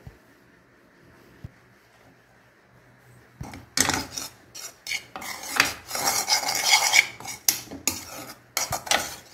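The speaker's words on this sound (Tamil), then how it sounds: "இந்த சட்டியில் நான் கொஞ்சமாக சாதம் போட்டு கிளறி காட்டுறேன்" Rice being stirred into tomato garlic thokku in a pan: a quiet lull, then a burst of busy scraping and clattering strokes from a spoon against the pan, close and steady, with no talking.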